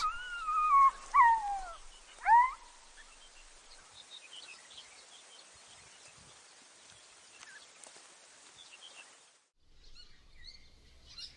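African wild dogs give a few high, whistling, warbling calls early on, then fall quiet against faint insect and bird background in the open African bush.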